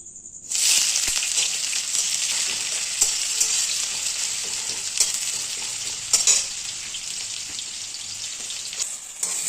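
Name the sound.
chicken and spices being sautéed in a pan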